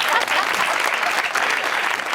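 A studio audience at a Pakistani comedy talk show applauds steadily, a dense, loud wash of clapping hands that holds evenly throughout.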